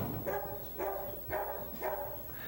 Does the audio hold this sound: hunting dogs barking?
yes